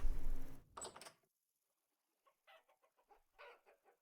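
A chicken in the video game Vintage Story gives a short burst of clucks, followed by a series of faint, soft clucks spaced out at a distance.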